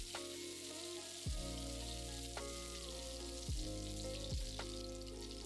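Sliced garlic cloves sizzle in hot oil with popped mustard seeds, a steady close frying hiss broken by a few sharp clinks of a spoon or pan.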